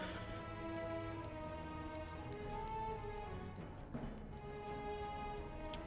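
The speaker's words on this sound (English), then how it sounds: "Sounds like it's raining, I just don't see any." Steady rain falls in the fantasy online game Lord of the Rings Online, a soft continuous patter under tonal ambient music, with no talk.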